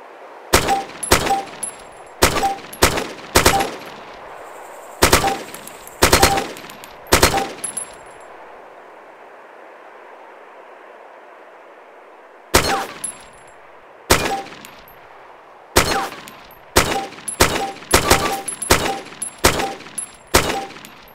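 Gunfire from a weapon in the video game DayZ: loud single shots fired in quick bursts of two to four, a pause of several seconds, then more rapid shots with metallic clicks.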